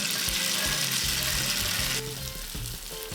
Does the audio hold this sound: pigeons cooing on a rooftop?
no